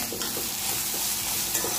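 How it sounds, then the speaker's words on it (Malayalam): Chopped onion sautéing in oil in a pan, a close, even frying hiss with repeated soft scraping stirs at a steady rhythm, no speech. "ഈ സവാളയും ഇതിൽ കിടന്ന് നല്ലോണം ഒന്ന് വഴങ്ങി വരേണ്ടതുണ്ട്"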